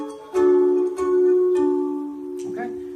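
Mini kinnor lyre with two strings plucked together, a few clear, sustained harmonious tones close up, each pluck ringing and slowly decaying before the next; no speech over the notes.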